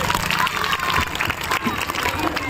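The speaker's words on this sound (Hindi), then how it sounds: "एक बेर जोरदार ताली बजियो" Loud, dense applause and cheering from a large outdoor crowd at a Jan Suraaj political rally for a politician at a Durga temple ground, sustained evenly throughout with voices mixed in.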